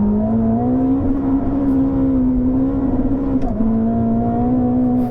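A Ferrari SF90 Assetto Fiorano lapping a race track produces a loud, steady engine drone with a constant hum, dipping briefly in pitch partway through before settling again, with no talking.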